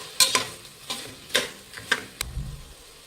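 Mixed vegetables stirred in a pan for a vegetable bath, a spoon scraping and clinking in several separate strokes over a soft sizzle, close and moderately loud.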